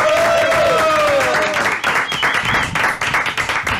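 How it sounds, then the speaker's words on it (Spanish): Studio audience applause on a Costa Rican sports chat show greeting a women's under-20 national team footballer, steady clapping that runs the whole stretch, with a held musical tone and a voice over it early on. "El aplauso para María Paula Salas."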